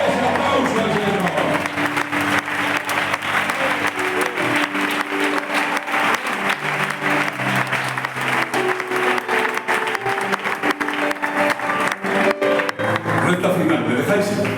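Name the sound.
congregation applause in church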